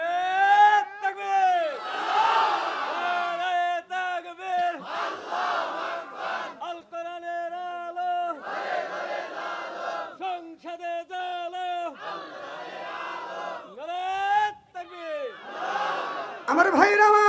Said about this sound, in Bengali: একটা তাকবীর দেন তো দেখি।